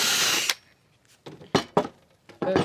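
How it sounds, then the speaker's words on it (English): A handheld power drill bores a 3/4-inch hole about four inches deep into wood for a carpenter bee trap. It starts with a loud whirring burst, then gives several short, separate revs with quiet pauses between them. "I'm gonna go 4 inches and drill a little bit further."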